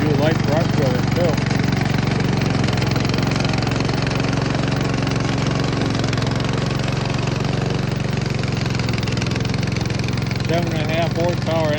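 A remote control mower's 7.5 horsepower engine runs loud and steady up close, a continuous rumbling drone, with a voice briefly heard over it near the start and the end.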